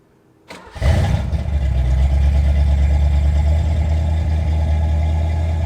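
A Ford Mustang Fox body engine cranks briefly and catches, then settles into a steady, loud, close idle with a deep rumble that holds for several seconds.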